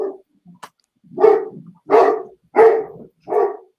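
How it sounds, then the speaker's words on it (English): An excited dog barks four times in quick succession, loud and close, with a couple of short yips before the run of barks. "And the dog is excited."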